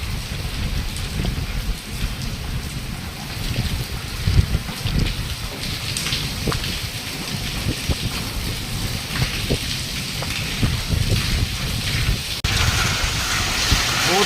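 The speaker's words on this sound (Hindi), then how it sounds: "बहुत तेज़ बारिश आ रही है और साथ में ओले भी हैं।" Heavy storm rain mixed with small hailstones pours down continuously, a dense hissing roar with scattered sharper ticks of hail and gusting wind throughout.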